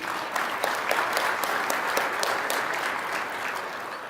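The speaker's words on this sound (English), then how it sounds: "let's give all of you a round of applause for that." Audience applause at an award announcement event, an even, sustained roar of many clapping hands with crisp individual claps, moderately loud and uninterrupted.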